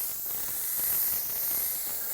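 Candy red paint sprays steadily from a spray gun onto a machine-turned surface in a booth, a continuous airy hiss at an even level with no breaks.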